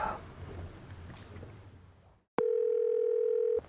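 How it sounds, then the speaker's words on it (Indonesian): A telephone dial tone sounds as a call is placed: after some quiet background noise, a loud, steady single tone comes in and holds for about a second before stopping abruptly. "Ya, coba kamu telepon deh."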